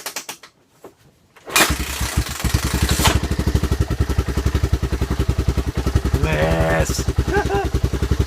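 Trike engine cranked on choke, catching after a short pause and settling into a loud, fast, steady idle, with a voice briefly exclaiming over it.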